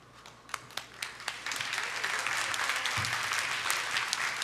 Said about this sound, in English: Thank you for that very polite bit of British applause.